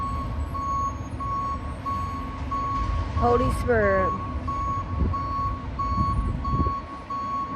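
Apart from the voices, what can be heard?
truck reversing beeps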